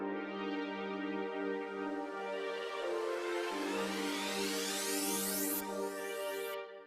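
Sustained synth pads from a song remake built in Logic, a rich harmonic chord swelling steadily and alone, with a bright upward-sweeping filter rising across the final seconds.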